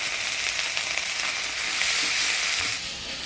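Black cumin and a ground paste of onion, garlic and ginger hit hot oil in a village-style Bengali kitchen, giving a loud, continuous hissing sizzle throughout.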